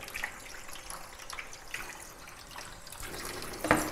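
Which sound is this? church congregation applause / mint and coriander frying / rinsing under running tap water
rinsing under running tap water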